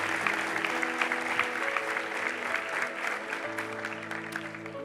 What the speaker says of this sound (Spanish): démosle un aplauso al que merece la gloria y la honra